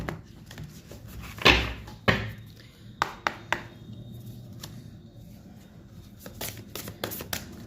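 Tarot card decks are handled and shuffled at close range, giving a few crisp riffling bursts and sharp taps against a surface, separated by quiet pauses and soft rustles.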